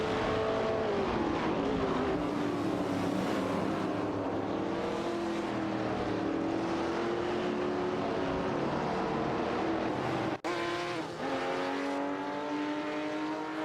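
A 1973 Holden Monaro's engine drones steadily in a simulated AI racing game, its pitch rising and falling with gear changes, and other cars are faintly audible around it.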